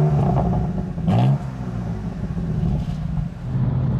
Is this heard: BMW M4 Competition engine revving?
yes